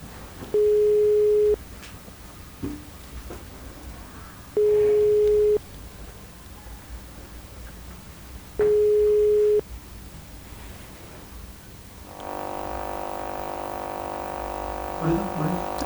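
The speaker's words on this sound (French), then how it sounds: "on va demander au régie d'appeler Nila Manchi" Telephone ringback tone while a quiz show calls a phone-a-friend joker: three steady one-second beeps spaced about four seconds apart, followed by a louder buzzing line noise near the end.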